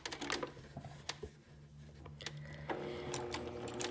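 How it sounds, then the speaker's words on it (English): Sewing machine stitching fabric to close a loop over existing stitches, with short bursts of needle clatter broken by brief pauses, fairly quiet and close. "sewing directly on the stitches you already have to close the loop"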